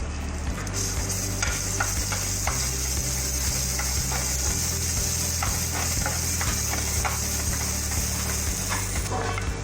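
Garlic and ginger fry in hot oil toward light brown, a bright constant sizzle with repeated scraping stirs of a spoon against the pan, close and steady with no talking.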